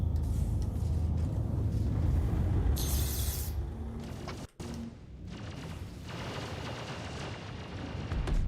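A destroyed target explodes in an early-access video game, giving a loud, sustained rumbling blast with crackling debris. A short dropout comes midway, then the rumble carries on steadily to the end.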